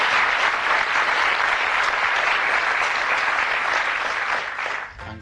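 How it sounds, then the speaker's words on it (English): Steady, loud applause from a studio audience at a televised darts game show in 1982, a dense clapping wash that holds evenly for about five seconds before tapering off at the end. "Give Angus a nice warm round of applause as he throws the shot."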